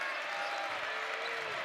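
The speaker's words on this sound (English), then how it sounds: "Crowd getting into it." A basketball arena crowd at a men's college game between NC State and Wake Forest fills the space with a dense wash of applause and cheering, and a voice speaks faintly beneath the noise.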